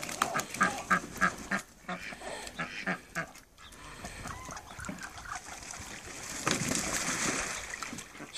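Ducks quack and geese honk in a noisy, scattered jumble, with flapping and splashing as the birds scramble around nearby.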